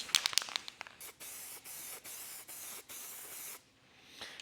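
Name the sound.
spray gun applying light coat of sealer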